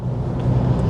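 A 2024 Mitsubishi Mirage with a small non-turbo 1.2-liter three-cylinder engine drives along, giving a steady low engine drone and road rumble heard from inside the car, with no voices over it.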